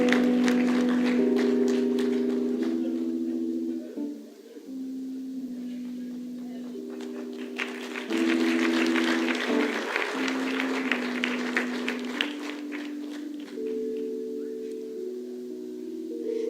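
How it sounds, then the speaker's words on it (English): An audience applauds at a South African national orders ceremony, with sustained clapping running under a sung or held tonal melody throughout. "Let's give him a great round of applause."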